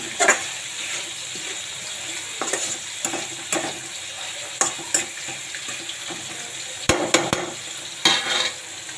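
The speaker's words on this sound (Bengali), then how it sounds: "এটা আমি চিংড়ি শুটকি দিয়ে ভাজি করছি।" Loud sizzling from a pan of taro flowers and dried shrimp being stir-fried, with repeated scraping and tapping of a spatula at irregular intervals.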